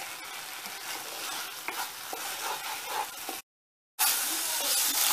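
Grated fresh coconut stirred in a hot pan for a pineapple burfi gives a steady, close scraping sizzle that cuts out briefly and then returns louder.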